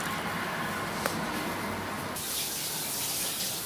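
Water pours steadily onto jaggery for a Tamil sweet preparation, a continuous splashing hiss that brightens partway through as the stream strengthens, heard close and alone.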